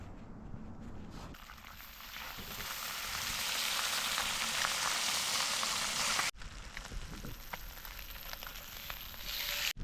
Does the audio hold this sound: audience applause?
no